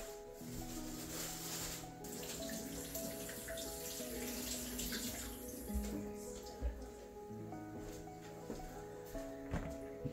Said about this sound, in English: give them a nice wash